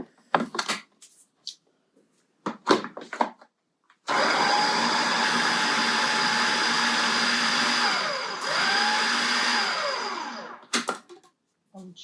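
A kitchen blender pulses a plant-based mixture at a chef competition. It whirs loudly and steadily for about six seconds, dips briefly in pitch, then stops, with a few clatters before and after.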